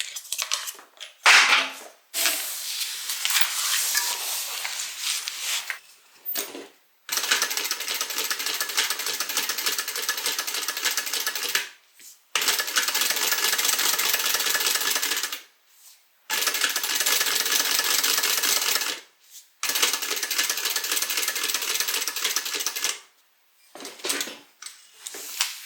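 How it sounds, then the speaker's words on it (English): A sewing machine stitches along the inside edge of a quilt block in long steady bursts of rapid mechanical clatter, separated by short silent pauses. "I'm going to start here at the corner and sew up the inside edge and stop"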